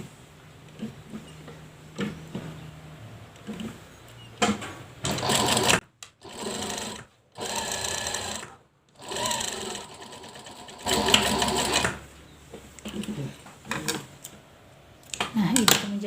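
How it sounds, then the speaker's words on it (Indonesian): A sewing machine stitches fabric for a beginner's sewing lesson in several bursts of rapid motor whirring separated by short gaps, close up, with someone speaking softly in between. "lalu kita jahit di bagian ini"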